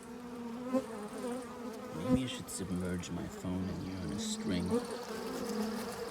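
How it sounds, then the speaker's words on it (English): Dense, steady droning of many honey bees swarming in an open hive, a close, continuous buzz with shifting pitch as individual bees pass near, while someone talks over it. "But a lot of bees."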